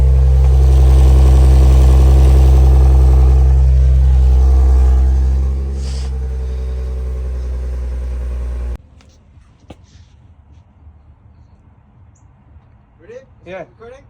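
A B8.5 Audi S4 idles through an ECS Tuning valved resonated exhaust with a loud, deep, steady rumble. The rumble drops to a softer drone partway through, then cuts out, leaving quiet background with faint voices at the end.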